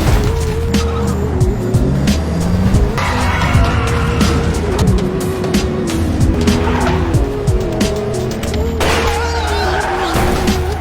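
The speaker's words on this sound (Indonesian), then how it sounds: "Mobil In-ae terselip di pinggir jalan" A car skids at a roadside in an action film scene, tires squealing in long loud bursts over a roaring engine and rumbling background score, continuous and close.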